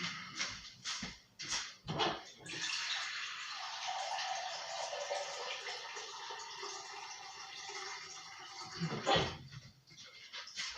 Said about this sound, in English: Let me just fill my jug again.